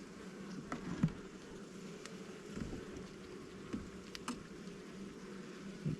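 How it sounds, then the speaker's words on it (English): Honey bees in a five-frame cell builder hive for spring queen rearing give a steady low, dense buzz throughout, with occasional closer individual bees rising briefly over the hum. "We have a decent amount of bees in here, I do believe."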